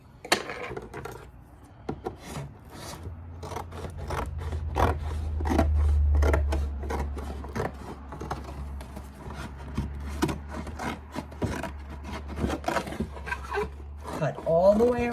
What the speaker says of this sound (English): Cut all the way around your box.